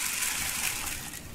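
Water is poured over chickpeas to soak them, a short, close, steady gush and splash that fades slightly at the end.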